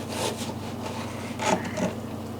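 Knife slicing partially frozen beef into quarter-inch jerky slices, a few rough scraping cuts over a steady background hum, close and without talk.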